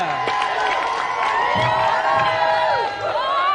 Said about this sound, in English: Round of applause again then, Tim and Eddie.